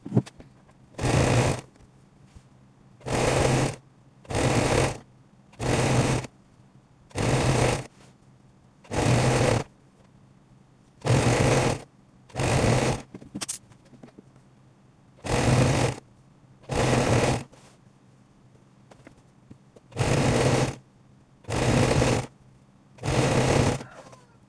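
A sewing machine stitches a kimono bubu gown with fringes in about a dozen short, loud, evenly spaced whirring bursts separated by brief quiet pauses, close up and with no talking.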